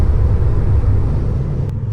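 Road and tire roar inside a 2019 Tesla Model 3 Standard Plus at highway speed: a steady, loud low rumble with a faint wind hiss above it, continuous and with no talking.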